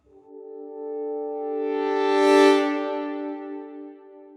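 A sustained harmonic tone drenched in 100% wet plate reverb, swelling and then fading into a long, smooth, slightly fluttery tail with no dry signal.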